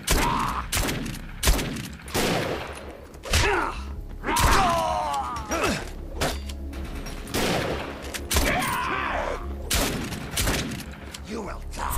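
Enemy cleaver weapon shots in the shooter game Defiance, sharp repeated bursts and thuds scattered through the fight, loud and close, with voices calling out in between.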